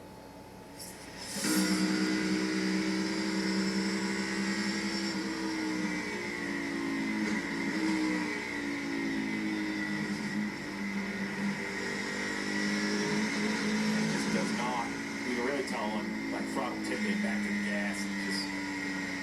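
A race car engine at Watkins Glen is refired and runs with a rough, uneven drone, pitch wavering and rising in spurts, heard steadily for a long stretch.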